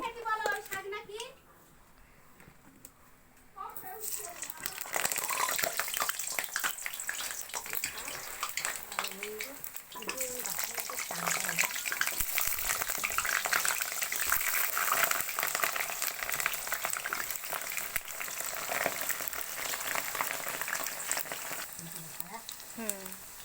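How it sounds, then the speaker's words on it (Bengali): Potatoes fry in hot oil, a broad steady sizzle and crackle that swells after a few seconds and holds loud and close, with a voice talking briefly at the start and end. "এই যে আলুগুলো ভালো করে ভেজে নেব।"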